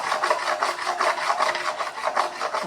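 An item is scrubbed by hand against a rough surface under a table to smooth and clean it, making a steady, close, rhythmic rasping with quick back-and-forth strokes and no talking.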